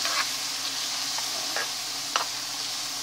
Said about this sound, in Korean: 이렇게 가볍게, 지금 가볍게 한번 익히고 있죠.